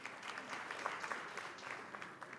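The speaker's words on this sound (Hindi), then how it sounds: "जोरदार तालियों से स्वागत कीजिए।" An audience at a political debate session applauds, giving a steady burst of clapping heard at a moderate distance.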